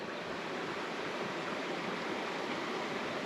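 Steady rushing water from a stream flows continuously around a curve, a broad, even wash of noise nearby during a storm, with no voices.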